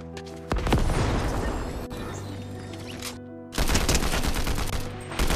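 Dense bursts of Fortnite gunfire in a gun-game match, a loud sustained volley that briefly drops out before erupting again with rapid overlapping shots.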